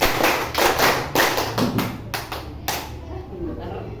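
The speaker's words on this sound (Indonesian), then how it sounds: "tepuk 3, tepuk 4, tepuk 4, tepuk 4, tepuk 5" Students clap in a rhythmic classroom clapping game, sharp grouped claps in steady counted bursts, close and loud, with voices calling out between the claps.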